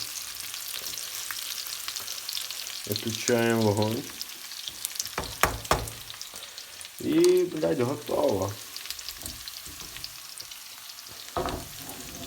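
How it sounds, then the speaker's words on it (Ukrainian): Food frying in a pan gives a steady, quiet sizzle throughout, with someone speaking intermittently over it. "Чекаємо, поки воно перестане шкварчати і вкидаємо в тарілку."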